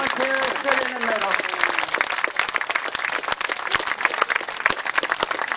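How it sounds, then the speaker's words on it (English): Spectators at a history festival applaud a volunteer with sharp, individually distinct claps, fairly close and lively, while a voice speaks and a few sung or called tones rise through the first seconds. "Give a round of applause for our volunteer who stood in the middle."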